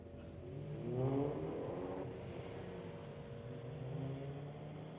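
A 2011 Volkswagen and an Audi launch in a street-legal drag race, their engines revving up to a moderately loud peak, then settling into a steady, slightly distant drone.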